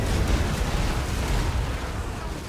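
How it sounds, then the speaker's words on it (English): Rocket salvo from a Sunmaker exploding across a Bretonnia versus Beastmen battle in Total War: Warhammer: a dense, continuous roar of booming blasts and rumble, loud and unbroken throughout. "And in one salvo from that Sunmaker, here's the second salvo."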